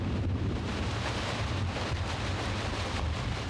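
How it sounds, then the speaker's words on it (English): Strong wind roars steadily across open fields during a blowing-snow storm, with heavy low rumble and microphone buffeting that stays constant throughout. "At times, the pavement disappeared when blowing snow whipped across open fields."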